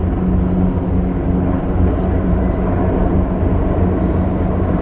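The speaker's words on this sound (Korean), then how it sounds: "헬기가 이렇게 낮게 날르는 거야." A helicopter flying low overhead outdoors while succulents are being planted, heard as a loud, continuous broadband rumble and roar that fills the whole stretch without letting up.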